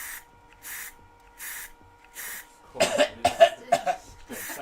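A spray can misting a colourful woodturning piece, with four or five evenly spaced hissing bursts, followed by a cluster of sharper coughing or throat-clearing noises close by.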